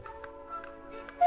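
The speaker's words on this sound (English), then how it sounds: "This must be Switzerland, where they make such wonderful clocks. Hear them ticking?" Swiss clocks tick in an even, regular rhythm of soft, close clicks over a steady tonal hum, with a sharper tone at the very end.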